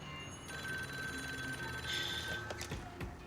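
A telephone rings with a steady electronic trill over a soft hum in an indoor scene, fairly faint and continuous across the moment.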